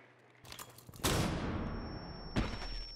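Several sharp gunshots crack out, including a loud blast that leaves a long rumbling tail, followed by another shot near the end.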